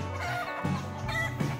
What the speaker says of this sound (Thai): ตัวจะขึ้นไปแล้วก็กระโตกกระตากอยู่บนยอดนั่นแหละ